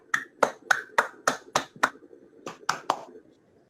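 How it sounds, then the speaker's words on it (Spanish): Roughly a dozen sharp, separate handclaps, close and evenly spaced, come from just one or two people at a book presentation, with a brief pause before the last few and no talking. "Fuertes aplausos para Héctor Neopali."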